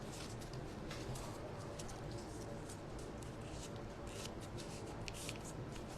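Paper being folded by hand to make paper roses, a close, constant crinkling and rustling with soft creases and scratchy shuffling throughout.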